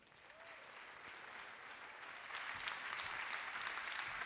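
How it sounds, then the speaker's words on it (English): Audience at a product presentation breaks into applause, a dense wash of many hands that swells louder halfway through and keeps going, heard from a distance. "please give a massive round of applause to our awesome UK product leader, Sean Sarazian."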